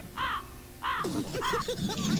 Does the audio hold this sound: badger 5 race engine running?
no